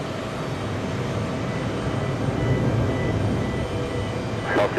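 A large Delta airliner at JFK airport, a broad, steady jet roar that swells slightly toward the middle and stays constant, with a brief higher chirp at the very end.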